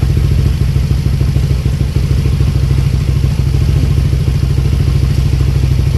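A Yamaha Aerox 185cc scooter engine, set up with an Aracer Mini X ECU, runs loud and steady with a throbbing mechanical clatter, held at high revs throughout with no talk.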